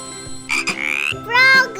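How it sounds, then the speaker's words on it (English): A frog croaks in a short children's alphabet-learning sequence, with a few quick bright raspy calls in bursts, fairly close over a soft musical background. "F for frog."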